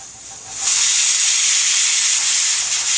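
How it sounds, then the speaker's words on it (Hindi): A pressure cooker whistles on a stove while cooking rice, a loud, sustained hiss of escaping steam bursting in after a quieter moment and holding steady to the end. "ये हमारा सीटी आ गया है।"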